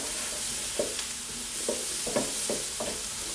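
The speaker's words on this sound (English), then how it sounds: "just give them mushrooms and onions a fry up" Mushrooms and onions fry in a pan with a steady sizzle. A few short scrapes of stirring break through as the pieces are moved around. No one speaks.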